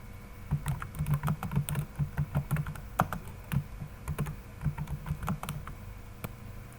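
Steady keystrokes on a computer keyboard as a company address is entered into an Excel spreadsheet, a quick uneven patter of soft clicks close to the microphone with no talking.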